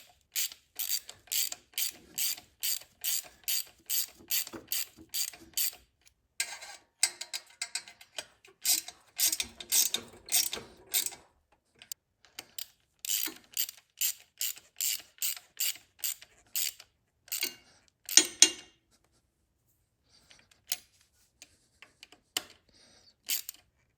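Ratchet wrench clicking in quick bursts as bolts are tightened in a circular pattern on a Rekluse slave cylinder for a 2018 Harley-Davidson Road Glide Special, close and crisp with short pauses between strokes.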